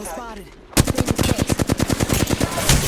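Rapid automatic gunfire from an enemy in Apex Legends, a loud close burst of about twenty evenly spaced shots after a brief quieter lead-in.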